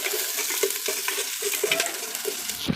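Onions frying in hot oil in a pan while cooking pork sinigang, a continuous close sizzle with repeated stirring scrapes and clicks at an irregular rhythm, with no talking.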